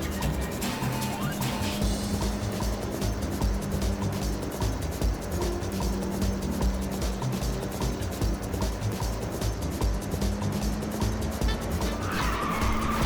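Race car engine roaring steadily through a nitrous boost in the Ridge Racer PSP racing game, loud and continuous with tire squeal and skidding throughout, no talk.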